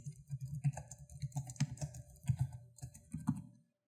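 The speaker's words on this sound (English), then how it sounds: "They'll come down here to the text editor space and they'll type their answer to your" Rapid, irregular typing on a computer keyboard, close and crisp, with clustered keystrokes and brief pauses, heard alone without speech before it stops abruptly.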